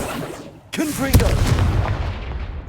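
A Confringo fire spell blast from the video game Hogwarts Legacy goes off as one loud, sudden burst about a second in, then fades into a rumbling tail, with a short voice-like cry just before it.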